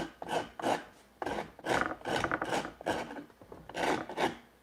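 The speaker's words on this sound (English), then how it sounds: "Trying to rasp on the push stroke" A hand rasp files a block of wood being shaped into a shoe form in a home workshop. The dry scraping comes in repeated close strokes, about a dozen uneven bursts in a steady back-and-forth rhythm, with no talking.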